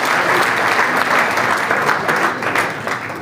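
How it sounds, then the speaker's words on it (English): Loud, dense applause from a large crowd, steady and close throughout, easing slightly toward the end. "shall we give him a rousing applause for President all."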